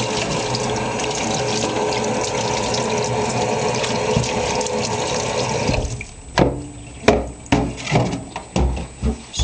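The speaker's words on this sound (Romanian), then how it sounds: "fazanul se spală sub jet de apă." Tap water runs steadily in a kitchen sink as a pheasant is rinsed under the stream, a loud continuous splash that breaks into uneven gushes and bumps near the end.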